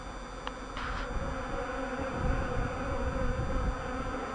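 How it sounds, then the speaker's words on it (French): A bee buzzing around a hornet at an apiary, a steady close insect drone with a faint hum layered beneath it, continuing throughout without talk. "Une abeille qui vient tourner autour d'un frelon sans vraiment l'attaquer."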